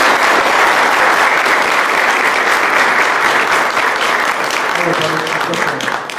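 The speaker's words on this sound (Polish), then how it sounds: "Brawa dla pana Krzysztofa Czabańskiego." Loud, dense crowd applause at a Law and Justice (PiS) campaign event for candidates in the Toruń district, continuous clapping from a large audience that stays strong throughout, with a voice faintly emerging near the end.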